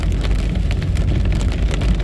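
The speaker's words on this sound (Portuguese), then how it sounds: "A chuva realmente apertou agora." Heavy rain pours down in Porto Alegre's Três Figueiras neighbourhood on a cold, stormy day, a steady dense hiss of falling water with low rumbling underneath, continuous and close with no voices.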